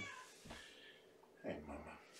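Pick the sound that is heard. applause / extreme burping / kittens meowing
kittens meowing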